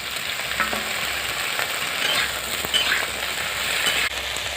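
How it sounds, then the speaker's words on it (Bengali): Vegetables frying in hot fish oil in a pan for a Bengali sour fish dish, a steady close sizzle with occasional stirring scrapes throughout, no talking. "এবার ওই মাছের তেলে সবজিগুলো ভেজে নেব।"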